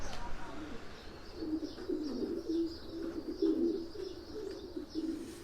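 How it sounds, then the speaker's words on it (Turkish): Homing pigeons coo steadily in a loft, a low rolling burble repeating in overlapping phrases for several seconds, fairly close and clear with no talk over it. "Daha önceki videolardan bildiğiniz üzere posta güvercini besliyoruz."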